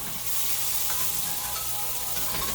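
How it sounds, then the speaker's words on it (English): Onions with carrot and green onions are tossed in hot avocado oil for keto shrimp fried rice, giving a soft, continuous sizzle that stays fairly quiet and steady throughout. "Give them a nice toss in the avocado oil there."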